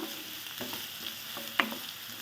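Two hundred grams of onion with a pinch of salt sautéing in oil for a Hyderabad chicken biryani, a low steady sizzle with a few stirring scrapes and one sharper clatter, close and fairly quiet with no talk.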